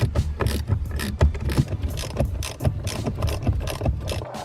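Ratcheting clicks from a hand tool undoing small 5.5mm bolts that hold the airbag on a Ford Fiesta steering wheel, a fast run of close, dense mechanical clicks with no talk.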